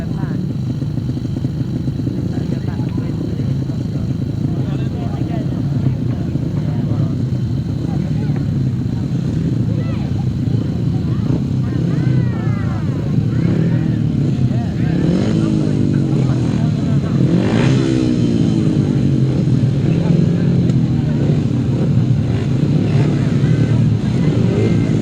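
Solo grasstrack racing motorcycles rev on the start line before a rerun at a 2010 European semi-final, several engines buzzing and rising in overlapping pitch sweeps while an announcer talks over them.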